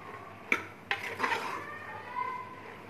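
Green chillies and black chickpeas frying in oil in a pot, stirred with a utensil: a few distinct scraping clinks against the pot and soft rubbing strokes over a faint, quiet background, no speech.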